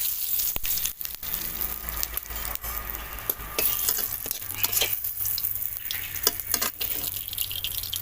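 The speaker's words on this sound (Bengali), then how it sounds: "ওই তেলে দিয়ে দেবো জিরে আর তেজপাতা" Cumin seeds and bay leaves dropped into hot oil left from frying fish in a wok, crackling and spitting with sharp pops over a steady close sizzle.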